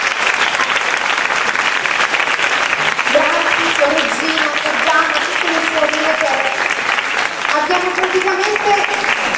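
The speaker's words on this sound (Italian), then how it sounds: "magari le facciamo anche un applauso" Audience applauding the Consolata missionary sisters at a family celebration: continuous loud clapping filling the room, with a voice speaking over it partway through.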